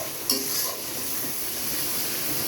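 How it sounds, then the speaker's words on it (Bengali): Spice masala for a loitta shutki (Bombay duck) and brinjal dish frying in a pan, a steady close sizzle with a brief scrape of stirring near the start, no talking. "আমার মশলাটা কষানো হয়ে গেছে"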